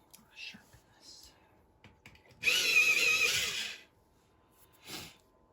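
A Prismacolor colored pencil is ground in a pencil sharpener for about a second and a half, a close buzzing whir, with soft whispering before and after it.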